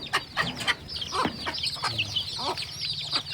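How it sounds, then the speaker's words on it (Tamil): Chickens clucking close by while eating feed, several birds giving short, soft, irregular clucks and chirps in a quiet village yard with no talk. "வச்சோடனே எல்லாம் கோழிலாம் அட்டகாசமாக திங்க பாருங்கள்."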